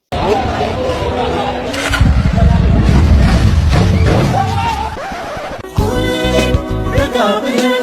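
A loud engine revs and roars up close, rising and falling, with people talking and crowd noise around it.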